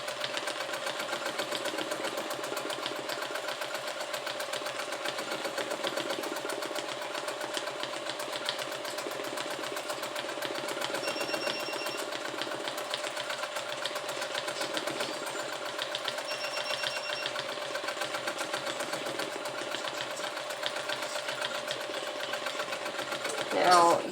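A sewing machine hums steadily at close range during free-motion quilting of a quilt, its fast needle stitching unbroken for over twenty seconds, while a person talks over it.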